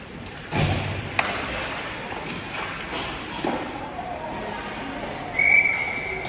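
A referee's whistle gives a short, fairly faint blast near the end of play at an ice hockey game, following thuds of pucks and bodies against the boards amid arena noise and commentary.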